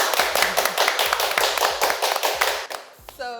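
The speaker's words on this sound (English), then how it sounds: "So yeah, clap it up." A steady run of close, crisp hand claps from a small group of podcast listeners, evenly paced over a few seconds, with a brief tonal sound at the end.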